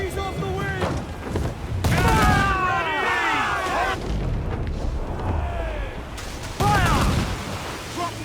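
Ship cannons boom in repeated volleys during a naval battle in Assassin's Creed 4 Black Flag, heavy blasts and thuds clustered in loud bursts over ongoing action noise, with shouted commands in between.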